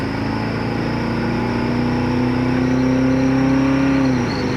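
A 1972 Chevy Nova cruising at highway speed, its engine droning steadily with a rising tonal whine and constant road and wind noise, loud and close from inside the car, with no talking.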